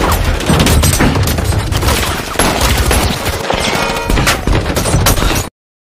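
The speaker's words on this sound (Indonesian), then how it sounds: "langsung mendapat serangan rentetan tembakan." A dense, loud barrage of rapid gunfire from a James Bond film trailer, overlapping shots and impacts on bulletproof glass, sustained for several seconds before cutting off abruptly.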